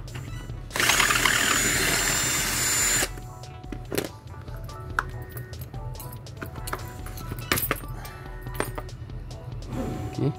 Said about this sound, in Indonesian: So drill je sampai dia boleh terbuka.